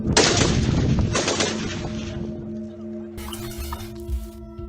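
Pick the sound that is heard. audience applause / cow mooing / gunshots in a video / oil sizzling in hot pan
gunshots in a video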